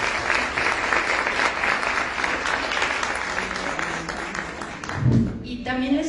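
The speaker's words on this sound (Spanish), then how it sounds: "Un aplauso para Padre." Audience applause at a talk for a priest at a school of faith event, a steady dense clapping that carries on for several seconds before tapering off, with a voice beginning to speak near the end.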